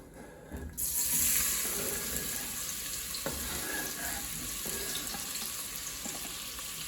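Celery and onion hitting hot bacon drippings and butter in a pan, a loud steady sizzle that jumps up as the vegetables go in and then holds as a broad hiss, with a few faint stirring knocks.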